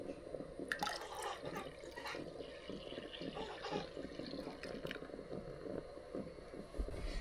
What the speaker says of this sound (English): The first thing we need to do is add a little bit more water.